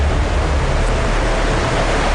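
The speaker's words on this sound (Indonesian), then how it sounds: "Saat melaju, kami kembali disambut riam-riam kecil." Small river rapids on the upper Kapuas River in Kalimantan make a loud, steady roar of rushing water that fills the whole soundscape without pause. No one speaks.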